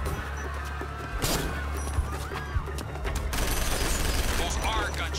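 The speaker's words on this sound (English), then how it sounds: "Those are gunshots, sir. We're under attack." Several sharp gunshots crack out at irregular intervals amid a busy ambient background in the game Act of War, with a burst of noise near the end.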